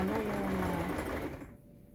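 Close, steady whir of a sewing machine stitching a dress runs for about a second and a half, then cuts off into near quiet.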